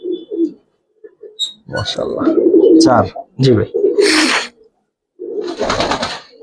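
Giribaz tournament pigeons from a palla-line loft coo softly and briefly, mostly buried under close conversation between men.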